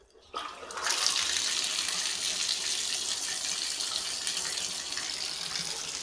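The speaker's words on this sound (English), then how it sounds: "Now the water flows freely." Water flowing freely down a bathtub drain newly cleared of a hair clog, a steady close rushing gush that starts abruptly and holds at an even level with no talk.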